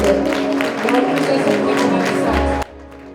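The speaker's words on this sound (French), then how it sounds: "nous applaudissements, s'il vous plaît." Audience applause at an awards gala celebrating African culture, a steady wash of clapping and some cheering that runs for about two and a half seconds, then cuts off abruptly.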